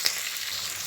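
Onion, green chilli and curry leaves frying in a pan, a short burst of steady bright sizzling with no voices.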